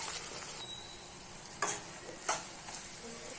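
Beaten egg and carrot frying quietly in a pan, a soft continuous sizzle broken by two brief scraping turns of a spatula.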